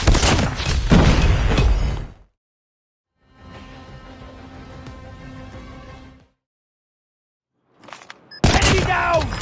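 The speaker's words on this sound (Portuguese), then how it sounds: "Frag out! Flash out!" Frag and flash grenades going off in a shooter game: loud bursts of blasts and crackling debris at the start and end, with a quieter stretch of mechanical game noise in between, then silence gaps.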